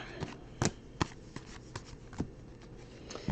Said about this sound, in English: Shuffle it off, we'll pick it up again in a little while.